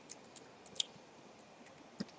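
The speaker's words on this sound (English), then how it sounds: "Now I can type invert in here" Faint, sparse clicks of keys tapped on a computer keyboard, a few isolated strokes at close range over a quiet background.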